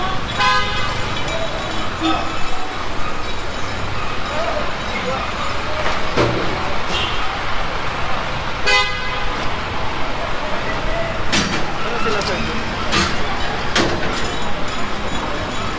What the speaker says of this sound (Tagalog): Ito na rin yung truck natin.